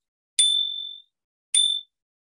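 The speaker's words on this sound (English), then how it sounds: "That's a bike bell." A bicycle bell dings twice, a clear bright ring that fades over about half a second, then a shorter second ding, alone in silence.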